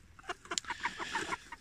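Laying hens, including Rennes and Sussex breeds, cluck in short, repeated bursts close by, a busy run of clucks and squawks with no talking.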